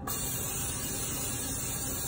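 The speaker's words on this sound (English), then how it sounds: "non-stick spray, the original." A continuous, close hiss of cooking spray from an aerosol can, steady and uninterrupted for about two seconds.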